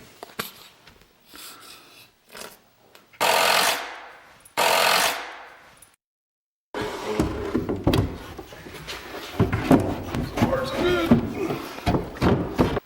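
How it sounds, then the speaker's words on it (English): Glue and a nail going into a joint of a classic step-back cabinet: a few short sharp taps and two loud bursts from a nail gun, then workshop clatter and handling noise. "I'm going to put a little glue and a nail in this joint"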